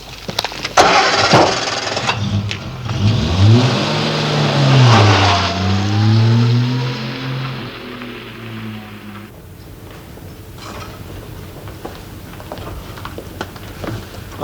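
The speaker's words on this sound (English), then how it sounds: "That's Alan's car." A car engine cranks and catches with a loud start, then revs and pulls away, its pitch sweeping up and down as it drives off and fades into quieter background.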